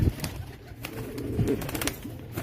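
Pigeons coo and flutter in a noisy outdoor setting, with soft low calls and occasional wing flaps over steady background rumble.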